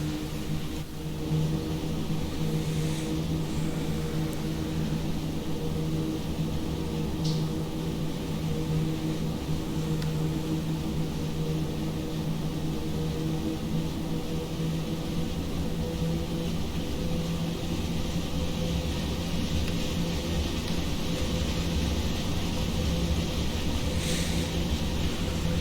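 A Swiss narrow-gauge train on the Arosa line in Train Sim World rolls out onto a viaduct, a steady low rumble and hum with a few faint squeals, continuous and unchanging throughout.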